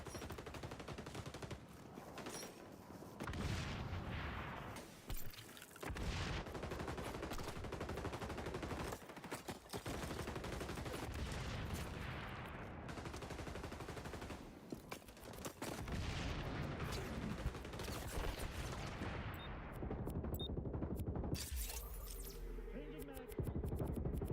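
Call of Duty MW3 combat with constant gunfire and explosions in a dense, loud, continuous mix, dipping briefly now and then, with a frag grenade somewhere among the blasts.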